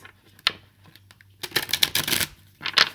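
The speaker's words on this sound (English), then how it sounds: "So let's do a couple of shuffles." Tarot cards being shuffled up close: a few soft taps, then a quick riffling burst and a final short flutter.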